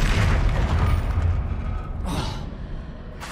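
Expelliarmus spell blast in the Hogwarts Legacy video game: a loud, sustained booming rumble for about two seconds, easing off, then a second whooshing burst near the end.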